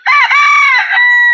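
A homestead chicken lets out one loud, close, drawn-out squawking call, harmonic and crow-like, with nothing else audible.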